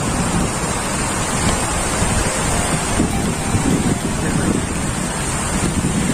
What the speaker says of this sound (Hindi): ये झरना पहाड़ के ऊपर से छोड़ा हुआ है